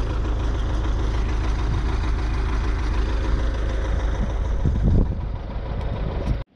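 An MTZ-82.1 tractor engine idles steadily and close, a continuous low rumble that drops away abruptly at the end, with no talk over it.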